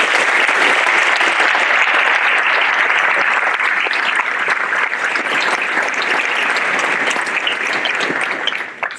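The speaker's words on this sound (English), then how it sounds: "I'd like for you to all give yourself a round of applause" Audience applause at a white coat ceremony for students, a loud, dense, steady wash of clapping from a crowd that holds for about nine seconds before tapering off at the end.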